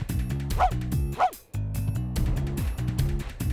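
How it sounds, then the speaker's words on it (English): Cartoon dog barking in The Grinch video game, a quick run of yips and bow-wows over bouncy game music, with a short pause before the music resumes. "I don't think the barking actually helps"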